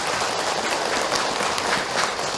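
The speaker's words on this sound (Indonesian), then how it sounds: "Tepuk tangan buat para ayah yang luar biasa dalam kehidupan." An audience at a religious lecture applauds for fathers, a steady, dense wash of clapping that fills the whole moment without any voices over it.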